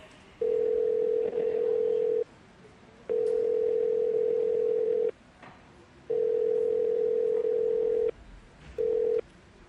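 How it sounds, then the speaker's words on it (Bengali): A telephone ringing over a speakerphone, heard as four steady, evenly spaced electronic tones, each about two seconds long, at moderate level, with short quiet gaps between them and no talk. "4 বার রিং হওয়ার পর কৌস্তববাবু ফোন তুলে বললেন"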